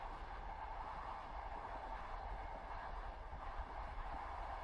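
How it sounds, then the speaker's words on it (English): A train rolls steadily along the rails on a serene winter night journey, a soft, continuous low rumble with no breaks and no voices. "the train will keep moving"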